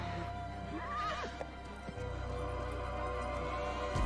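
A horse neighs in a drawn-out whinny with a rising and falling pitch over a steady low rumble, followed by a brief thud, with no talking.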